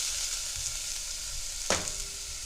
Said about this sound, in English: now I'm going to add my half a cup of shallots